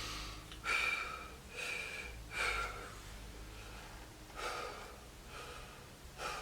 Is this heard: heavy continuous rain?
no